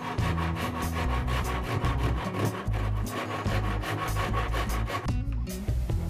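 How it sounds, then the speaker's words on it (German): A hand saw cuts wooden border strips for a bird feeder, giving a steady, close run of rhythmic rasping strokes that continues throughout with no talk. "Jetzt werden die Umrandungsleisten auf das Holz übertragen und anschließend ausgesägt."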